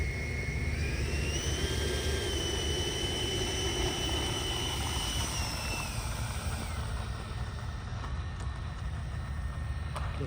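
FMS F-86 Sabre RC jet with an 80mm electric ducted fan taking off from a bumpy runway, a steady loud whining rush with rising and falling high-pitched tones over broadband roar, no talking.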